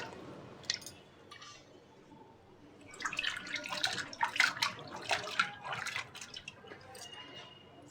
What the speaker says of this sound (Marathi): हे पाणी मी फेकून देते